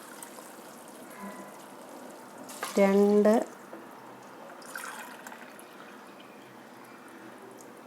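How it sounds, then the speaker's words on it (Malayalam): Hot water is poured into a cooking pot while making chicken biryani rice, a soft running pour that sits under brief talk, with a short spoken word in the middle and a quieter splash afterward. "അപ്പം ചൂടുവെള്ളം ഒഴിക്കുകയാണ്."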